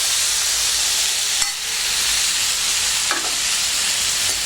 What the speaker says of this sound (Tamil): இது இப்போ உடனே உருளைக்கிழங்கு போட்டுருவோம்.